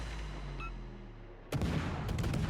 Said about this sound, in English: I'm gonna just start shooting and help finish him off